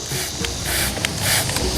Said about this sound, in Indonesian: Jadi kita mulai semprot seperti ini teman-teman. Semprotnya embun saja, semprot tipis kayak gini.